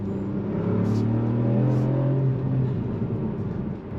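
A Ford Puma ST drives along with its engine, intake and turbo producing a steady low drone that holds at an even level and eases slightly toward the end.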